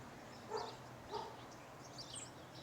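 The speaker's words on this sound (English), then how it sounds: "Silly dog." An outdoor dog barks a few times, faint and somewhat distant, in short spaced yips against a steady low background hum.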